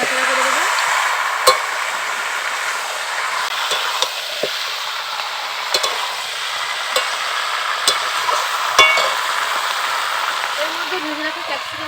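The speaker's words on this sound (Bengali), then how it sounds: "ভালো করে নাড়াচাড়া করে দেবো।" Chicken curry being stirred in a pan, with steady frying sizzle under scattered spatula scrapes and clinks against the metal, close and continuous throughout.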